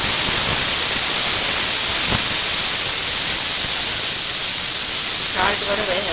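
Chicken frying in a pan, a loud, steady, close sizzle and hiss running throughout with faint clinks beneath.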